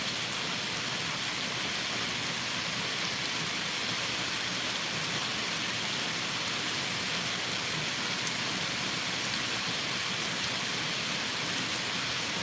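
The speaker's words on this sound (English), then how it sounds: "it's raining" Steady rain falls on leaves outdoors, a dense, even patter and hiss that continues unbroken at moderate level throughout.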